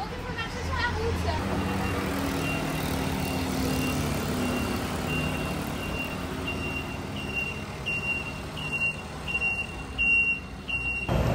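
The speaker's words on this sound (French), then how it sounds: "les camions ils ont des clignotants qui font énormément de bruit et les scooters il y en a partout" Busy Taiwanese street traffic with trucks and scooters rumbling steadily nearby, with a loud truck turn-indicator beeping in short repeated bursts toward the end.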